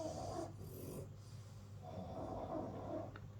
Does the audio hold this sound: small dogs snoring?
yes